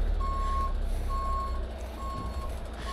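A truck maneuvering and reversing among tree branches, its backup alarm beeping steadily about once a second over a low, rumbling engine idle, close by and fairly loud with no talking.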